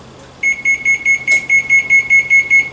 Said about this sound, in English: And I'm going to go ahead and set my timer.